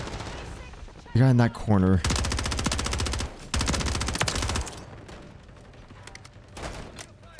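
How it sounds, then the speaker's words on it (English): Rapid bursts of gunfire in the video game Modern Warfare 3, loud and repeated in several volleys, with a player talking briefly over the shooting. "they're all shooting each other now because they don't know who's who"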